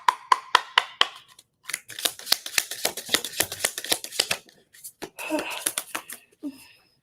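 Tarot cards being shuffled close by, a run of quick crisp riffling bursts and flicks that come in irregular clusters with short pauses between them, with no voice over the shuffling.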